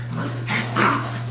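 Chinook puppies make a couple of short, soft yips and barks in a home kitchen, close and alone over a steady low hum.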